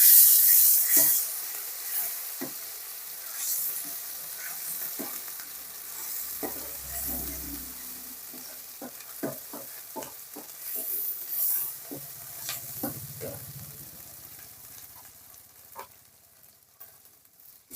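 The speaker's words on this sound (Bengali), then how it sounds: "জিরে বাটা দু চামচ আদা বাটা এক চামচ পেঁয়াজ বাটা দু চামচ দিয়ে এটাকে একটু নেড়ে চেড়ে নেবো" Cumin, ginger and onion pastes sizzle and get stirred in a pan for prawn malai curry, a faint steady frying hiss punctuated by many sharp spatula clicks and scrapes.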